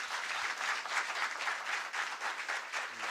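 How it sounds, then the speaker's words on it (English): An audience at a National Science Week STEM expo competition gives a brief round of applause: a dense, even rush of many hands clapping, moderately loud and sustained throughout without speech over it. "Can you give him a round of applause?"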